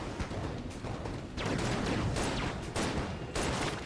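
Dense bursts of gunfire and missile blasts from the bullet-hell game Enter the Gungeon during a boss fight against the Beholster, a loud, continuous barrage with repeated sharp surges and no talk.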